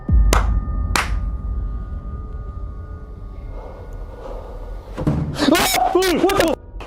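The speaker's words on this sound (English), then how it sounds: "Chris, that was a door." A door slams with a sharp thud inside an abandoned sanatorium at night, after two earlier hand claps, with people talking nervously around it.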